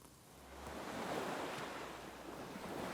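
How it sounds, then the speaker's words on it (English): Soft, continuous whooshing rush like distant ocean waves, as heard when holding a conch shell to the ear, steady and faint with gentle swells. "maybe you can hear the sound of the waves and the ocean inside of it"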